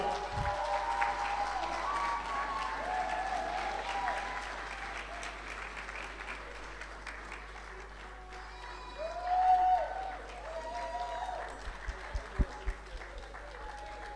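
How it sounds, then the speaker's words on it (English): Sustained audience applause at a staff appreciation awards ceremony in Saint Lucia, steady clapping from a crowd with a voice speaking over it partway through and a brief swell near the end. "One more time, round of applause for Krishna"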